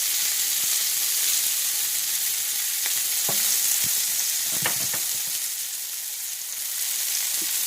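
Sausage frying in a pan while grits are cooked Southern-style, a steady close hiss of sizzling fat with occasional sharp pops and crackles, heard alone with no talking.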